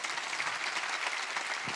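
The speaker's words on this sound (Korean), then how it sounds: "박수 치라고요." A church congregation claps steadily throughout, a dense, even wash of many hands filling the room at moderate loudness.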